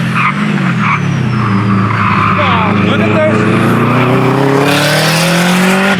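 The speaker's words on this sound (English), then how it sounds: "Look at the brakes on that Subaru, man." A Subaru braking hard on a time attack track, tires squealing and skidding loudly as the engine note drops, with someone talking over it.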